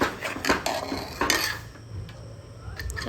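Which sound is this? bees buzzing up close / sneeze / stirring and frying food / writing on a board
stirring and frying food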